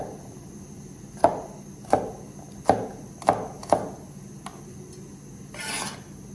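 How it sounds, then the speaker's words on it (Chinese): A kitchen knife chops garlic cloves on a cutting board, five sharp, evenly spaced knocks close by, then a softer tap and a brief scraping rasp, with no talk. "蒜子给它切成瓣儿"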